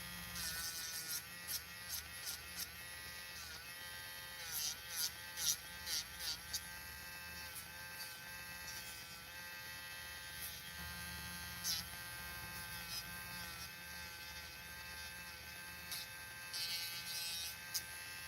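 A high steady electric nail drill whines on as nails are filed, with brief scratchy bursts of contact and a constant underlying hum.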